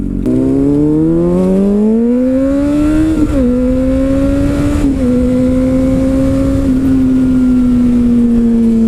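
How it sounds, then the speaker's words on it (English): A Honda CBR600RR's exhaust revs up, its engine note climbing for a few seconds before settling into a loud, steady drone close by. No voices are heard. "You gotta love the sound of the exhaust"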